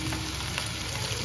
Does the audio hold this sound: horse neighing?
no